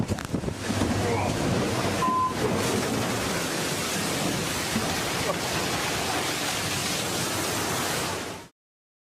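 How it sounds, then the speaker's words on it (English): Storm waves in the Bay of Biscay pound a German 122-class frigate, giving a loud, continuous roar of surf and wind that keeps going until it cuts off abruptly near the end. "In the Gulf of Biscay, monstrous waves unleashed their fury."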